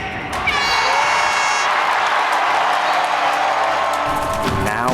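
Basketball fans cheer and clap in an arena, a loud continuous crowd roar with shouts and whoops, and a voice rises over the noise near the end.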